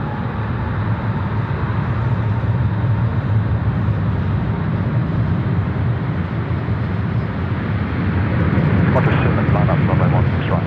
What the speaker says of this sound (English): About ready to roll here on the main north-south runway, runway 16 right.